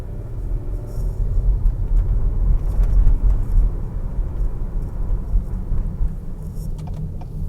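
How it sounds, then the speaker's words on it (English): A 2019-or-later Acura RDX 2.0T turbo engine fitted with a Stage 1 intake pulls under light throttle, giving a steady low rumble and drone heard from inside the car with no voices. "I can hear the turbo noise a little more on throttle"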